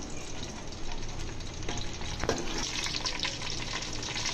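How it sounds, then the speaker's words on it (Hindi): Bay leaves, cinnamon sticks, cumin and other whole spices sizzle in hot oil in a pot for black chickpea pulao, a steady close frying hiss that runs the whole time with a few small crackles and stirring scrapes. "और फिर हम इसको सौते करेंगे।"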